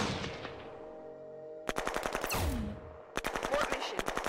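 Rapid bursts of automatic gunfire from troops in the strategy war game Shadow Empire, two sharp rattling volleys following a quieter lead-in, loud and close with no talk over them.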